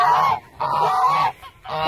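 Homestead geese honking close and loud, three long nasal honks in quick succession with brief gaps between them, no other sounds.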